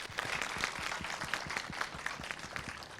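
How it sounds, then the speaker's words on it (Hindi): Audience at a college discussion event applauds, a faint, somewhat distant patter of many hands clapping, with individual claps audible throughout. "सबसे पहले गार्गी कॉलेज, उनके बच्चों के लिए, सारे एडमिनिस्ट्रेशन के लिए एक बार जोरदार तालियां"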